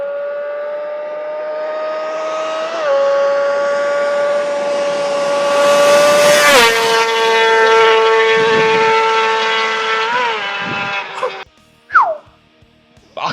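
An MC22 motorcycle engine revving toward 20,000 RPM gives a loud, sustained high-pitched wail with stepped shifts in pitch, then cuts off near the end, followed by a brief sharp blip.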